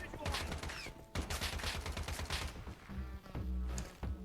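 Gunfire in the video game Lost Light: rapid bursts of shots rattle at a steady, loud pace, broken by short pauses, with a voice talking over the fighting.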